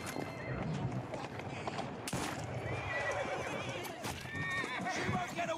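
Several horse whinnies and neighs from Assassin's Creed Syndicate, mixed with clip-clopping hooves and busy game ambience, with a voice talking faintly underneath.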